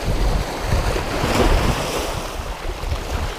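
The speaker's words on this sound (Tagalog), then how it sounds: "magalaw ang dagat" Rough sea beside a fishing boat, loud churning waves and splashing water with a heavy rumble of wind buffeting the microphone, continuous and close.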